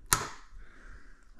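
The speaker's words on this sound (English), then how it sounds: "it allows you enough room to cut all these zip ties off" A single sharp snip rings out as a zip tie is cut off a large 3D printer, one brief crisp click followed by quiet shop ambience.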